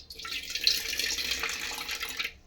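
Water poured off soaked rice in a kitchen vessel before grinding it for chickpea dosa batter, a steady splashing pour that runs for about two seconds, close and moderately loud, then tails off, with no talking.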